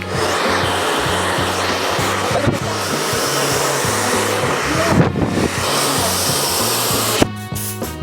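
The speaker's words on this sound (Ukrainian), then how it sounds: "Останній етап це ми сушимо." A hair dryer blows steadily on hair freshly dyed with herbal henna in a golden-copper dark blonde shade, a loud continuous whooshing roar with a pulsing low motor drone, briefly shifting near the end.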